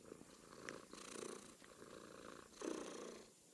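A pet cat purrs close by in a steady, soft rumble, with brief louder swells at about 1 and 2.6 seconds.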